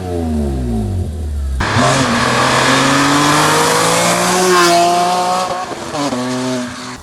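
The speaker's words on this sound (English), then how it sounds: "the noise when you push it up into the revs is worth it" A BMW E46 M3 engine revs hard and loud, climbing steadily in pitch after a low idle, holding high revs, then easing off and rising again, close and dominant.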